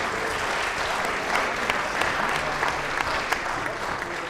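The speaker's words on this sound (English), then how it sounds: "Give him a hand of applause." Council members applaud in a chamber at a Leeds City Council full meeting to mark a councillor's birthday, a dense burst of hand-clapping from a small group that holds steady for a few seconds.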